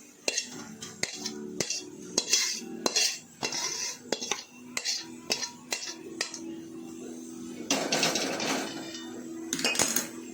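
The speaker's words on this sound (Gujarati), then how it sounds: "આપણે આ ઘીવાળી થાળી કરી છે તેમાં આપણે આ રીતે હલવો નાખી દઈશું." A spoon scrapes and taps against a ghee-greased steel plate while spreading bottle gourd halwa, sharp metallic clinks at irregular intervals with soft smearing scrapes between, close and fairly loud.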